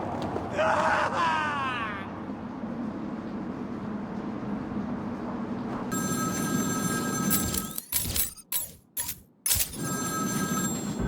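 A gasping voice at first, then low ambience, followed by an electronic telephone ring that chirps in quick repeated bursts, in the video game Batman: Arkham City.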